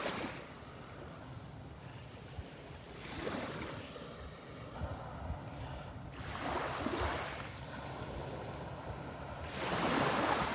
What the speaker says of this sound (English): Usually when these little waves come in